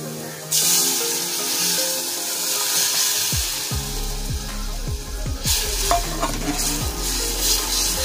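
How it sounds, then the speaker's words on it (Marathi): Hot tempering for boiled toor dal erupts into a loud sizzle as the cooked dal is poured in, followed by a close pouring, bubbling and stirring churn. "तर आता आपण फोडणीला टाकूया डाळ।"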